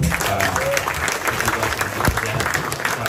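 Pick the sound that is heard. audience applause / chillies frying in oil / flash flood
audience applause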